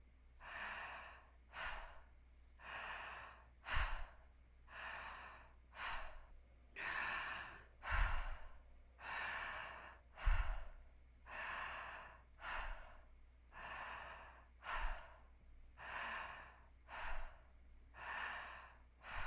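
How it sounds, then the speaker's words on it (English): Slow, deep breaths during a guided breathwork practice, long airy inhales and exhales repeating steadily about every two seconds, close and fairly soft, with no talking. "stay with the breath, inhaling, exhaling"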